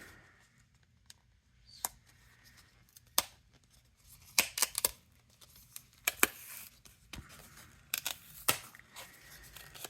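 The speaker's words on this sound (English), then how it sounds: "Maybe we'll just cut out a mermaid to go in there." Scissors snipping a paper mermaid for a handmade card, close and quiet, a series of short sharp cuts coming faster toward the end.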